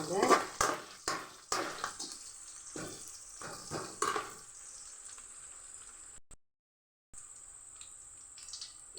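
Greens, onion and garlic sauté in a pan for a Tamil keerai kuzhambu, with a steady sizzle under sharp stirring scrapes and clinks, then a brief gap before the sizzle resumes alone.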